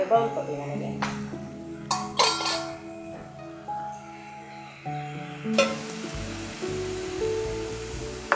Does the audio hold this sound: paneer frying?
yes